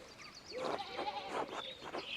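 Sheep bleat in the medieval video game Pentiment, several overlapping wavering calls at moderate volume over a faint ambient background.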